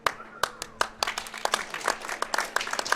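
A crowd gathered after a pickleball tournament final applauds, with scattered, uneven claps and sharp individual hand slaps continuing for a few seconds at moderate distance, over faint background chatter.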